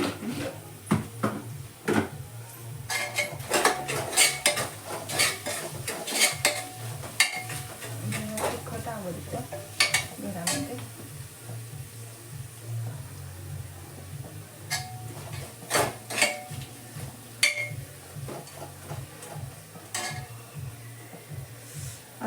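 Masala roasting in a pan is stirred with a metal spoon, giving repeated scraping and clinking strokes against the pan over a soft sizzle, close up and fairly quiet, with no talk.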